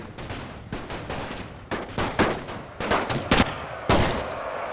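Rapid bursts of gunfire crackle in quick succession in a World War I video game battle, with heavier booming bomb blasts mixed in, loud and close throughout.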